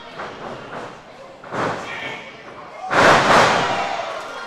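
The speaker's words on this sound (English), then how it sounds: "Bulldog takedown." A bulldog takedown slam onto the mat during an independent pro wrestling match. A heavy thud hits on the impact, followed by a swell of crowd noise, with softer thumps and movement before it.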